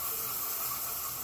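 Liquid hits a hot pan of mushroom gravy with a steady, close steam hiss that holds evenly for a moment.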